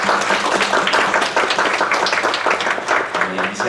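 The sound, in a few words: congregation applause in church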